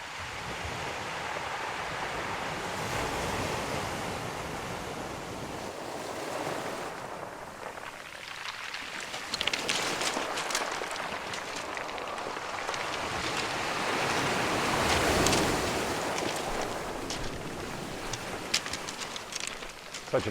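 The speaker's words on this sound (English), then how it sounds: "the waves are breaking behind me" Ocean waves break on an Icelandic shore, a broad rushing wash that swells and recedes in long surges with hissing spray, fairly distant and steady throughout.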